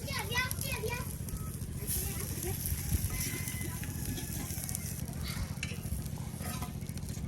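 Pumpkin pieces sizzle steadily in a pan of hot oil, a continuous frying hiss that runs throughout, with children's voices and chatter mixed underneath.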